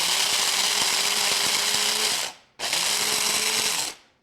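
An electric grinder whirs loudly and close as it grinds pepper in two pulses, the first about two seconds long and the second shorter, each winding down quickly, with a faint rattle of peppercorns inside and no talking.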